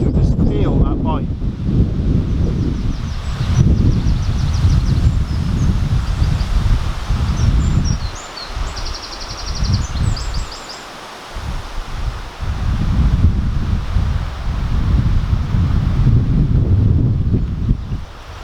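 Wind buffets the microphone outdoors on a bank while paste fishing, a loud steady roar with rustling gusts that dip briefly in the middle and return strongly, with faint chirps above and someone speaking under it.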